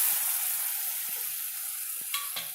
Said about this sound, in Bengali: দিয়ে এটাকেও আমি একটু হালকা ভেজে নেব